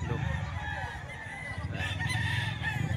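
A rooster crows among hens and young stags kept for sale, a loud, close, drawn-out call with clucking fowl around it, all heard over continuous barnyard noise.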